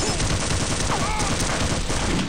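Dense, loud, continuous gunfire aimed at a turret in Half-Life: Opposing Force, a steady barrage of rapid shots with no clear pauses.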